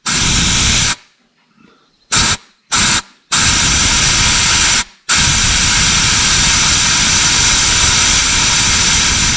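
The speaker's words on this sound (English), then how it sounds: "blow compressed air from the broken end that I haven't repaired yet, and see what blows out this side" Compressed air blasting through the fuel line of a 1972 Mercedes-Benz 280SE 4.5, a loud steady hiss broken by a few short gaps and stutters before it runs on continuously.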